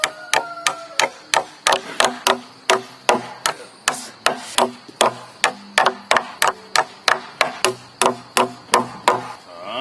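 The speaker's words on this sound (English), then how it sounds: "So I'm just gonna nail these on here with some trusty nails." Rapid, steady hammer strikes drive nails into wood during house framing, about two to three sharp blows per second, close and loud, with no talking.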